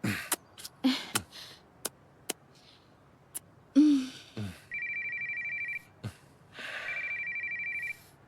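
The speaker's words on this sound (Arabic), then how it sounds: "حبيبي لا ترد على التليفون" A telephone rings in a dubbed Turkish drama scene: two long electronic ring tones sound clearly, separated by a short pause, after a stretch of sparse clicks, soft sighs and a brief vocal sound.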